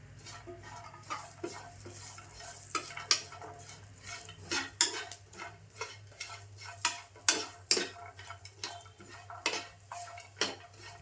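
Garlic cloves and a piece of ginger are dropped into a hot pan with coconut for roasting, with scattered sharp clinks and scraping stirs of a spoon against the pan over a faint low hum, no talking.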